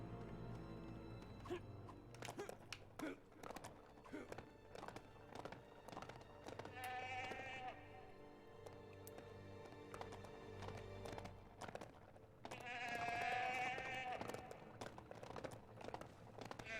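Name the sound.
sheep bleating in Lego The Hobbit video game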